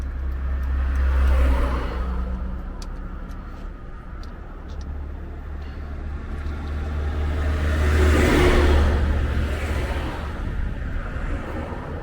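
Heavy trucks grind uphill on a sloped roadside, their deep engine rumble swelling and fading as they pass close by, with a loud surge near the start and another toward the end and no talking over it.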